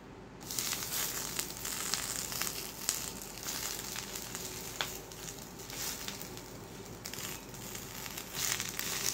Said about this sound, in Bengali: তারপর এক এক করে কচু পাতা দিয়ে দিব